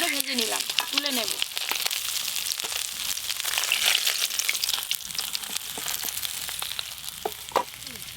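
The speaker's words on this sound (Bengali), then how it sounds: "এই মাছগুলো বেশ ভালো করে ভেজে নিলাম, তুলে নেব।" Hilsa fish fry in hot oil in a home kitchen, giving a steady crackling sizzle with occasional stirring and scraping, after a brief voice at the start.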